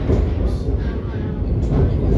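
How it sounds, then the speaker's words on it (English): An Elizabeth line train pulls into Heathrow Terminal 4, where its rolling rumble and wheel noise stay steady and loud from inside the carriage. "We are now arriving at Heathrow Terminal 4, where this train terminates."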